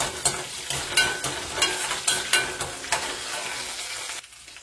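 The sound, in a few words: garlic frying in oil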